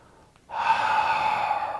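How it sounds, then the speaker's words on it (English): A steady, airy exhale through the mouth, like fogging a mirror during a tai chi walking breath exercise for seniors, starts after a short quiet pause and holds evenly, close and clear, with no talking. "Breathing in through the nose, breathing out through the mouth, like we're fogging up a mirror."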